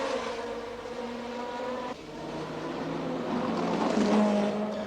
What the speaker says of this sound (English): watch the cars stream by